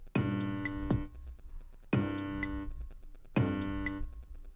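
Three booming 808 bass notes with a raised pitch, each struck and left to ring for over a second, spaced evenly with no voices.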